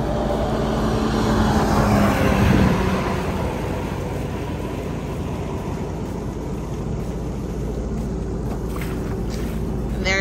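A modified 2023 Sea-Doo RXP-X Apex jet ski with its motor reving out pulls away across the water. It gives a loud, steady engine roar that swells briefly and then holds as it speeds off.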